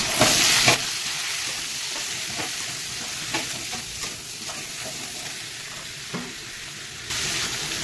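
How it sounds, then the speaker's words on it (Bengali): Onion, green chili, potato and tomato frying in a pan, a steady hiss of sizzling oil with occasional spatula scrapes and clacks, louder bursts at the start and end, heard close with no talk. "পেঁয়াজ, বেশি করে পেঁয়াজ দেবো, কাঁচা লঙ্কা আর আলু টমেটো এগুলো দিয়ে ফ্রাই করবো"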